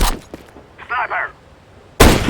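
Gunfire in Counter-Strike: Global Offensive on the Lake map, with a couple of short sharp reports early on, a brief mechanical rattle in the middle, and a loud blast at the end.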